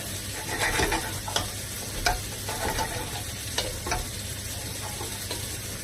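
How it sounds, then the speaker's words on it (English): Coriander stirred into sizzling chicken tikka masala with broken-down onions and tomatoes: a steady frying hiss with spoon scrapes and knocks against the pan recurring every second or so. "And what we'll do is stir in the coriander"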